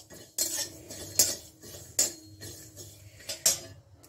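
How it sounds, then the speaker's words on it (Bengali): A utensil scrapes and knocks against a pan while poppy seeds and cashews fry together, about five sharp metallic clinks spaced through a quiet, close stirring sound. "পোস্তর সঙ্গে আমি কয়েকটা কাজু বাদামও একসঙ্গে ভেজে নিচ্ছি"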